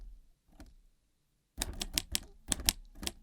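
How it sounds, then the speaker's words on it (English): A typewriter sample in a music track taps out a rhythmic pattern of crisp, close key strikes in quick repeated bursts after a quiet opening. "I used the typewriter in this very rhythmic way over here."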